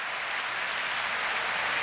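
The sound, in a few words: audience applauding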